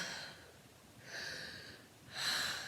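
Three faint, drawn-out heavy breaths, each a soft airy rush with short quiet gaps between, heard close and alone.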